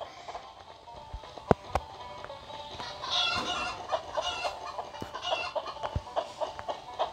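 Chickens cluck and squawk in the Stickman Party video game, a busy run of short repeated calls with sharp clicks and game effects over a steady background.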